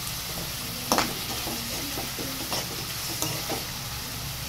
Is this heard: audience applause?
no